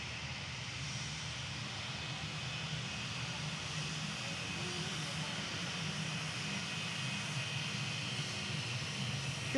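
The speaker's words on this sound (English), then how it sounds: "It's an A319 heading off." An Airbus A319 jet departs the airport in a steady, continuous engine roar with a broad low rumble and hiss, holding at an even loudness throughout, with faint background noise and no clear talk.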